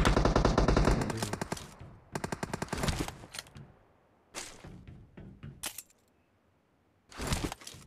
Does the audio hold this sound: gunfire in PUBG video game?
yes